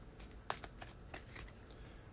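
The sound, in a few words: shuffling oracle cards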